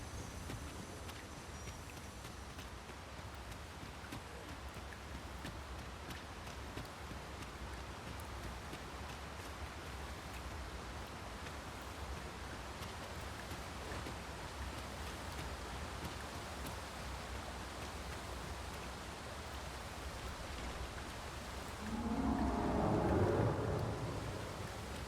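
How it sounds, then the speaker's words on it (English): Steady rain falls in Dragon's Dogma II, a constant hiss of drops on the ground, and a deep roll of thunder swells near the end before fading back into the downpour. "It started raining, Master"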